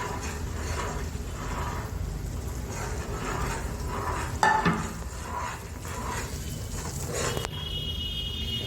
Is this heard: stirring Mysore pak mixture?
yes